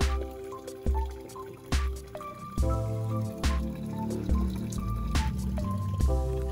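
Water trickles and drips into an outdoor fish pond, a close, bubbling gurgle with repeated splashy plops at irregular intervals over a soft continuous flow, quiet and without talk.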